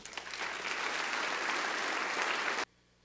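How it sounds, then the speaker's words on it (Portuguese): A church congregation breaks into dense, steady applause that holds at a constant level before cutting off abruptly. "Aplauda Jesus aí."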